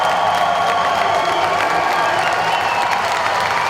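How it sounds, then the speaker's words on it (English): A large crowd at the 2014 IFSC Climbing World Cup bouldering finals in Toronto cheers and applauds loudly and steadily, a dense, continuous roar of clapping and shouts filling the whole moment. "the crowd are going nuts out here"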